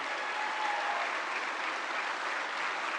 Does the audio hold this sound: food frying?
no